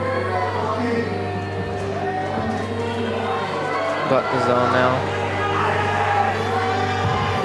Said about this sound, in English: Listen to the crowd. They've really woken up.